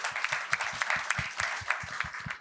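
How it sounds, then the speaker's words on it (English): An audience applauds at an art exhibition talk, a sparse, uneven patter of hand claps from a modest crowd, fairly close and continuous for a couple of seconds. "A big round of applause for them"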